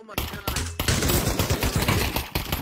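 Rapid automatic AK-47 gunfire in the crime video game Mafia, loud dense bursts of shots in quick succession with brief pauses, mixed with game noise and some speech.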